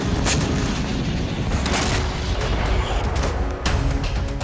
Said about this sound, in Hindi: ये तस्वीरें 27 जून की सुबह की है, जब इजरायली एयरफोर्स ने अल शिजाया में बम गिराए।